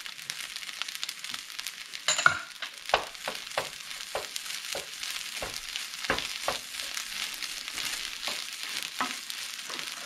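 Ham and mixed vegetables sizzle steadily in a hot pan for fried rice, a continuous close frying hiss broken by scraping stirs and spatula taps.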